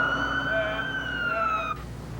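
A wailing warning siren with steady, layered tones that cut off abruptly near the end, over a constant low background rumble.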